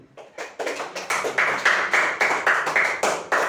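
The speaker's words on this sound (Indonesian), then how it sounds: "Tepuk tangan." A group of people clap hands in unison, about a dozen crisp, evenly spaced claps in a steady rhythm that grow louder after a soft start, with no talking.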